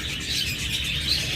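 Forpus parrotlets in a cage give a few faint, high chirps over a low background murmur.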